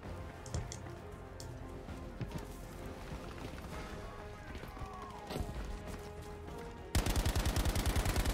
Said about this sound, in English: Oh, I wasted so many rounds on this guy.